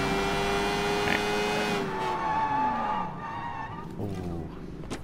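A motorbike engine in a video game drones with a rising and falling pitch, loud and steady, while tires skid and squeal toward the end.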